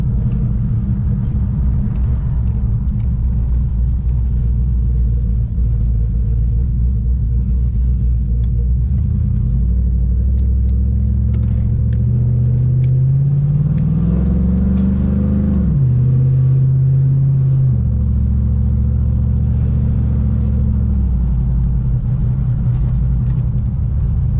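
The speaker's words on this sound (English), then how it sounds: "take it out for a quick test drive" A car with a repaired fuse box, a TBSS, on a test drive: a loud, continuous interior engine rumble with gear changes as it accelerates and settles, and no talk.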